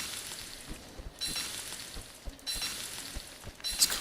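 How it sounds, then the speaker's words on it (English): Berries cooking over a campfire in the game Don't Starve, a soft steady sizzle and crackle that swells in two or three waves, with small ticks and pops scattered throughout. "Alright, I'm going to cook these berries."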